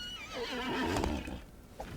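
A horse mount in the Disney Infinity 3.0 video game gives one loud, close whinny with a wavering, descending pitch, followed by a brief snort.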